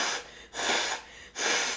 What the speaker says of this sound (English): yes, I'm blowing my nose on camera.